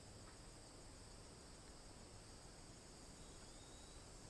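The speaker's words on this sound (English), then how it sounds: "The cicadas sing." Cicadas drone at night on the savannah in Zimbabwe, a dense, unbroken buzz, steady and even throughout with no pauses or voices.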